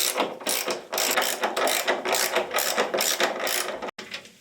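A hand ratchet clicks in quick rhythmic strokes, close by, snugging the control arm bolts on a Porsche 911 SC for now. Several fast bursts of ratcheting come almost without a break, then there is a brief pause near the end.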